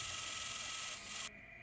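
Metal drill bit boring through an aluminum sheet for a boat dock sign, a steady high grinding whir up close that cuts off abruptly near the end.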